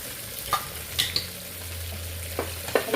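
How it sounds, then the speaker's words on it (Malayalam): Grated coconut stirred in a pan beside frying sardines in coconut oil, with steady sizzling under a few scraping strokes and light clinks of the spoon against the pan, close and moderately loud. "പീര ഒന്ന് ഇളക്കിയിട്ട് കൊടുക്കട്ടോ."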